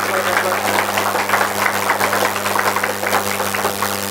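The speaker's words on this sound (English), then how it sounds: "huge round of applause for them." Audience applause at an engineering college fest, a continuous wash of clapping heard through a hall with a steady low electrical hum beneath it.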